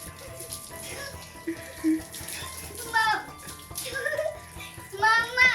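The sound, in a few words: water poured over child bathing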